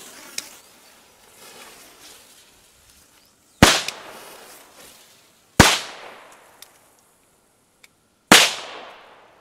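Pyrocracker firecrackers set off outdoors, one small crack early, then three loud, sharp bangs spaced a few seconds apart, each followed by a brief fading echo.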